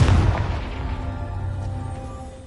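A Confringo fire spell goes off in Hogwarts Legacy with a loud, booming explosive burst at the start that rolls off into a fading rumble over about two seconds, heard alone with no talk.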